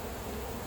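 Honey bees at the front of a hive fill the air with a dense, continuous buzzing hum that stays close and steady throughout the short moment, with no voices.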